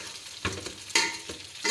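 Macaroni being stirred with masala in a pan over a low flame, giving a few scraping, sizzling strokes of spoon against pan at a close, steady pace, with no talk.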